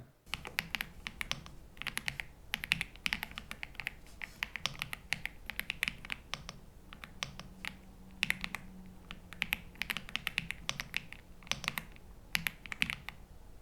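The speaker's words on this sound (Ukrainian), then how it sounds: "дати цій клавіатурі звук мармурового цоконя із заводу" Rapid, steady typing on an AULA F75 mechanical keyboard, crisp clacky keystrokes in quick bursts with brief pauses, close up and fairly quiet.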